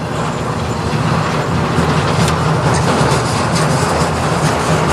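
A CN manifest freight train rolls past on the Strathroy Sub, a loud, steady rumble with faint wheel clatter and gusting wind, no voices.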